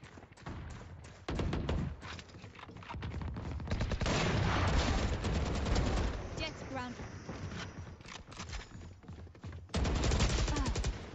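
Gunfire in a Valorant deathmatch, dense bursts of rapid shots running almost throughout, loud and close, with a voice talking over parts of it.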